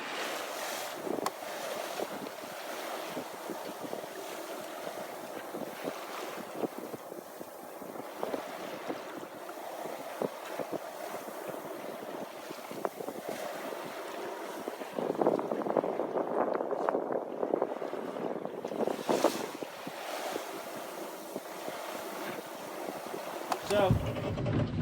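Alberg 30 sailboat under way on the sea off Catalina Island, wind buffeting the microphone over the rush and slap of water along the hull, with a voice talking at times.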